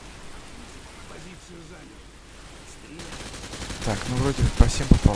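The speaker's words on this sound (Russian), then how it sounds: "несмотря на вот этот вот проливной дождик" Heavy rain pours in Call of Duty: Modern Warfare 2, a soft wash under a man's speech, then a burst of rapid, loud gunfire crackles over the downpour near the end.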